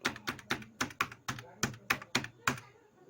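Keystrokes on a computer keyboard as a mobile number is entered: about ten crisp, evenly spaced clicks, close and moderately loud, with no talk.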